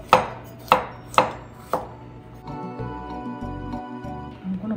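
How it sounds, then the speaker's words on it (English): A kitchen knife chops garlic on a cutting board in four sharp, separate strikes, followed by softer scraping and handling sounds at close range. "I'm gonna cut the garlic so to make it"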